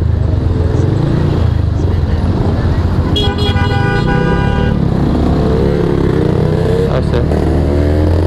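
Many motorcycles and cars stream past on a busy road near the town square in Tangerang, with continuous engine roar, a horn toot, and a brief spoken word over the traffic.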